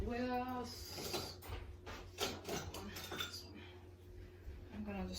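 Kitchen utensils clink and clatter in a few short metallic knocks while someone rummages for a whisk in a farmhouse kitchen, with a person talking and a low hum in the background.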